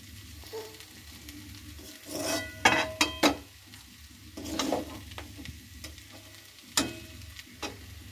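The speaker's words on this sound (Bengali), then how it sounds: "তো এবার অল্প অল্প করে দিয়ে ভালোভাবে এটাকে ভেজে নেবো আগে ফার্স্ট।" Chow mein noodles fry in a pan, a low, continuous sizzle broken by irregular bursts of spatula tossing and clattering, close and moderately quiet, with no talking.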